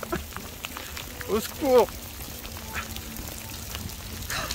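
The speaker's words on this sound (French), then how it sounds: "mais en fait il pleut de ouf." Heavy rain with big drops falls outdoors in Calgary, a steady broadband hiss running under a person who talks and cries out near the middle.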